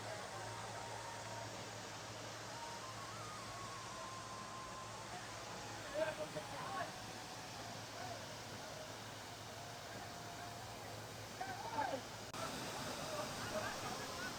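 Mookanamane Abbi waterfall near Sakleshpura, viewed from above, gives a steady, continuous rushing roar of falling water that fills the whole stretch, with a few faint brief noises on top.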